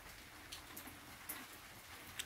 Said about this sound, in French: Ce soir il pleut.